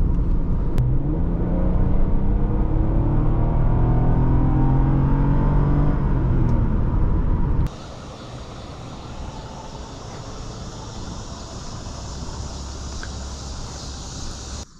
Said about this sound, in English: Today we are driving a 2009 Toyota RAV4 V6 on our channel